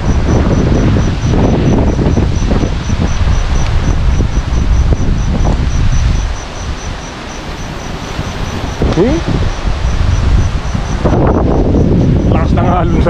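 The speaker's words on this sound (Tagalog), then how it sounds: "Ang hangin oh." Strong gusting wind buffets the microphone in loud, roaring rushes beside a river, easing briefly in the middle before surging again, with leaves rustling.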